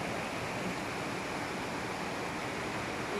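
The flooded Bulatukan river rushes past in a steady, unbroken wash of churning water, distant and fairly faint, with no other sounds on top.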